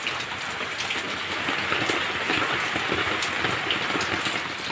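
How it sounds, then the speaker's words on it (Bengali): Steady rain pours down, a dense hiss of drops striking surfaces with scattered louder taps. "একবার বৃষ্টি পড়ছে, একবার কমছে"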